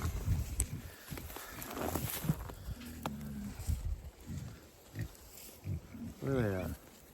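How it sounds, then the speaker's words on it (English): Feeder pigs outdoors on a farm in winter grunting and oinking in short bursts, faint and mixed with footsteps and someone talking nearby. "These pigs over here are doing good."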